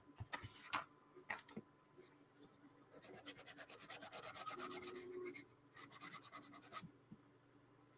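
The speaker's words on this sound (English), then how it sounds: "Other than sanding them, which I have to give, there's a bit of a raised area there." Quiet rasping strokes of sanding on a small wooden piece for a ROKR orrery model, a few isolated scrapes followed by a steady rapid run of back-and-forth rubbing, then a last short burst.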